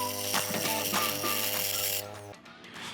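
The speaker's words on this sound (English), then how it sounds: "Okay, the scroll saw will work" A scroll saw cuts simple wooden tags, giving a steady close mechanical buzz with a low hum for about two seconds before it cuts off and goes quiet.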